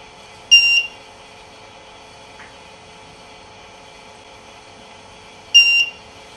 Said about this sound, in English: And now the lost alarm starts sounding.